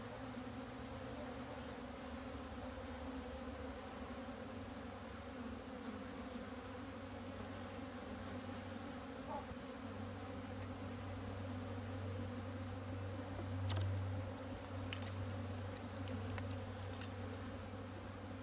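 Honeybees buzz inside a queenless hive with drones present, a steady low, dense hum that holds throughout and swells slightly as a louder drone passes close by.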